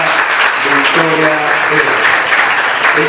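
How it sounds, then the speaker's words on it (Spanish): A lecture audience at a university philosophy school applauds a doctor after a talk on tuberculosis, a loud, dense, continuous clapping with a few voices mixed in. "Fuerte aplauso para la doctora Victoria."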